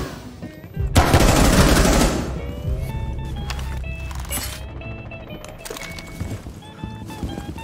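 Loud, sustained machine-gun fire from a Rainbow Six Siege match, a dense rapid burst opening the sequence, then continuing sporadic shots and game effects filling the rest.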